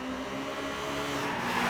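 A steady, droning race car engine in Gran Turismo 5 hums continuously at a constant pitch, slightly synthetic in tone, with no voices.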